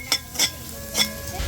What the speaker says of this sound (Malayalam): നമ്മുടെ തകരയില ലേശം ഉപ്പ് ഇട്ട് കൊടുത്ത് ഇച്ചിരി മഞ്ഞപ്പൊടി ഇട്ട് കൊടുത്ത് ഇതൊന്ന് വഴറ്റിയെടുക്കാം